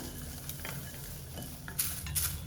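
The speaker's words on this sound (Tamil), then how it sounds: "கருவேப்பிலையும் நல்லா வறுபட்டுருச்சு." Soft, steady sizzling and light crackling from curry leaves dry-roasting in a pan, with a few faint scrapes of a spoon stirring.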